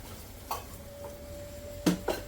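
Quiet sizzling of spice masala frying in ghee, with a few sharp clinks of a spoon stirring against the pan.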